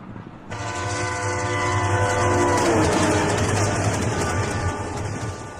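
A train passes on the railway with a long, loud horn blast over the rumble and clatter of rolling cars, close by and steady, then slowly easing off.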